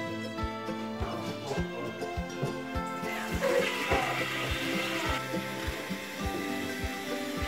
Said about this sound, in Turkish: Su haznemiz doldu. Şamandıra suyu kesti.